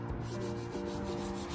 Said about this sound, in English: 220 is the perfect grit of sandpaper for a light distressing.